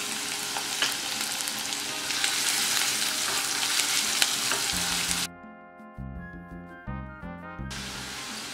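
A small finely chopped onion hits oil with garlic already turned pink, for a Goan prawn curry, giving a loud, dense sizzle for about five seconds before a short tonal musical passage takes over.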